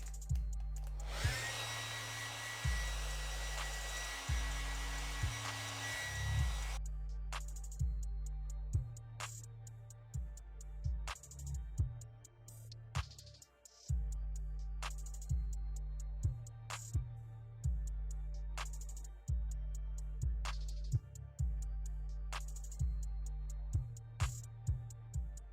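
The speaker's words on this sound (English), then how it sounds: "Let me get the blow dryer." A blow dryer runs in a steady whir during a blonde curly wig install, loud at first, then cycling on and off in short bursts with clicks between them.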